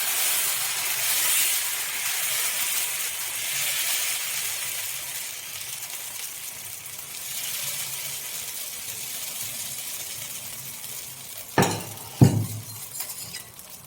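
Millet (kambu) dosa batter cooks on a hot stone griddle, giving a steady, soft sizzling hiss. Near the end, two sharp metallic clinks ring out close by.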